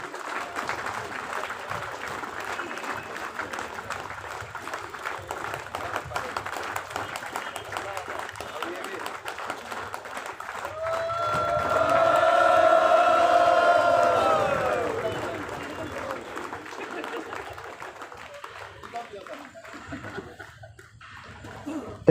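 Audience at a student union foundation day celebration clapping and cheering, a crowd swell that rises mid-way over an announcer's ongoing speech, then fades back under continued talking.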